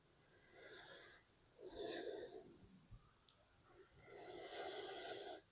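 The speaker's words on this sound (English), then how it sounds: "Let's give it a sniff." Several close, breathy sniffs of a blueberry ale in a row, with a short pause between, quiet and near.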